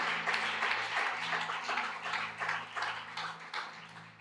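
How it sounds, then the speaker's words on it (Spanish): A church congregation applauds at an evening worship service with steady, dense clapping that swells and fades slightly, fairly close and continuous with no voices. "Dale un aplauso fuerte a ese Dios grande y poderoso"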